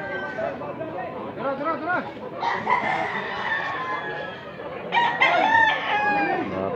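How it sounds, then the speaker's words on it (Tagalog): Roosters crow repeatedly among clucking chickens at a fowl sale in Consolacion, Cebu, the calls loud and close with people talking over them. "Gandang manok."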